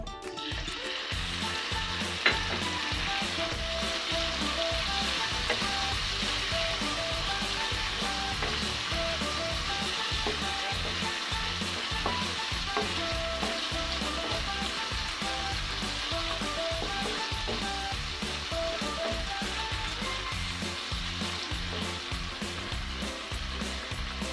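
Tomatoes fry in oil in a pan for a tomato bharta, giving a constant loud close sizzle with frequent popping crackles and stirring scrapes, and no talking.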